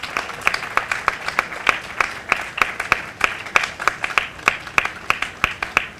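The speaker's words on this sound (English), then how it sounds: "A round of applause for all the winners," Applause at an embassy Independence Day celebration, sharp rhythmic claps from a crowd with a clear repeating beat, steady and fairly close for several seconds.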